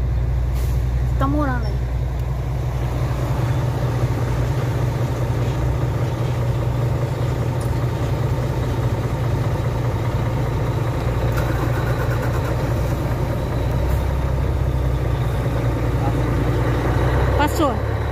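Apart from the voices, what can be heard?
truck engine idling and air brake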